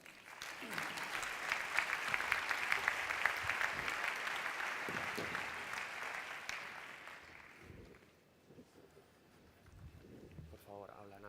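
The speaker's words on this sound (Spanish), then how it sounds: "Un fuerte aplauso." Audience at a business conference gives a strong round of applause, dense steady clapping that swells and holds for several seconds before tapering off, followed by a speaker beginning to talk.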